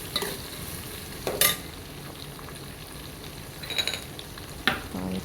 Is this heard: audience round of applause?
no